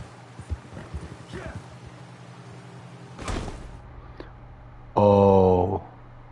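Horse hooves clip-clop faintly in a video game over wind and background noise, followed by a short loud whinny-like burst near the end.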